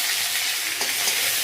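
Fenugreek leaves sizzle in hot tempering oil with mustard seeds and cumin, a steady close crackle with a small burst of popping partway through and no voices.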